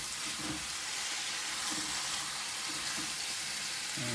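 Constant, dense sizzle of velveted chicken frying in hot oil for a stir-fry, steady and fairly loud with no talking.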